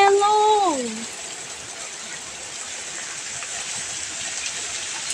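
Steady, fairly loud rain hiss falls during an ice storm in Shanghai, continuing evenly throughout; a person's exclaiming voice rises briefly over it at the very start.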